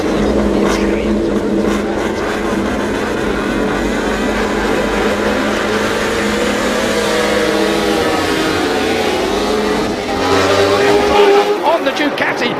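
Ducati MotoGP motorcycles racing at Mugello, engines screaming at high revs with rising and falling pitch sweeps as bikes pass and shift, a loud, continuous blast with a brief dip near the end, under commentary.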